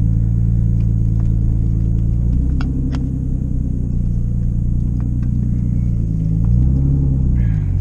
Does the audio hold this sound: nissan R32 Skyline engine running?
yes